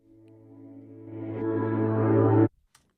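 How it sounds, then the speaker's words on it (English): A reversed reverb tail made from choir or background vocals swells steadily louder with a ghostly, alien-like quality, then cuts off abruptly near the end, leaving near silence. "it's the reverb from the choir or background vocals that I then flipped and reversed"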